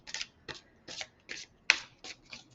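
Angel cards are shuffled by hand in seven or eight quick, crisp riffling bursts at a steady, uneven rhythm, close up and fairly quiet, with no talking.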